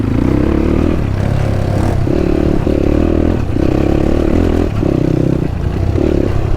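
A motorcycle rides a rough off-road trail from Kathmandu to Melamchi, its loud engine droning continuously near the microphone and surging in repeated pulses as it rattles over the ground.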